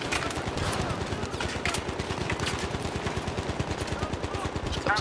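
Rapid, sustained automatic fire from a light machine gun in the Battlefield 3 multiplayer map Grand Bazaar, a dense continuous rattle of shots lasting several seconds, with a player speaking over it.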